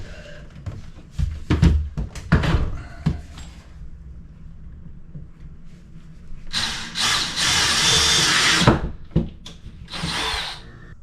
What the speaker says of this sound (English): So I'm going to use the pilot drill here